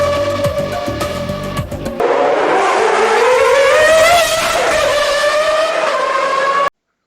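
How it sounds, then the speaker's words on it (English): Dallara-Ferrari Formula 1 car with a V12 engine, loud and close, screaming up through the revs with a rising, wailing harmonic pitch after a brief choppy burst, then cutting off abruptly into silence. "Let's hear that V12."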